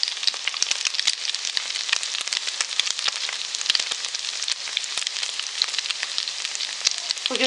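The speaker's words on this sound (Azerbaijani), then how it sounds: "O bir yüzünü də yağda qızardıram." A potato and meat cutlet fries in hot oil, a steady loud crackling sizzle with dense popping bursts running unbroken throughout, no voices.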